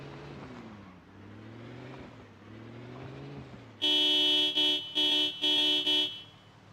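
A car horn in the video game Project Zomboid honks in several loud, close blasts of uneven length, following a low droning engine.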